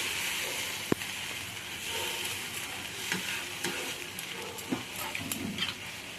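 Masala dhoka curry is stirred in a pan after potato-boiling water goes in: a steady sizzling hiss with a sharp clink near the start and intermittent scraping strokes of the spoon, close and alone.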